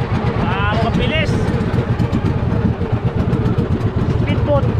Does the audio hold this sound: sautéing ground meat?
no